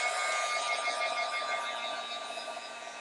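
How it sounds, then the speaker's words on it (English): Heat gun heat-setting a mixed media card, a steady close whirring hiss with a faint tonal whine that fades slightly toward the end. "I'm going to go ahead and give this a quick heat set"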